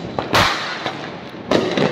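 Diwali firecrackers go off outdoors in loud, sharp bursts: one big bang early, a smaller pop mid-way, then another strong blast near the end, each followed by a crackling tail.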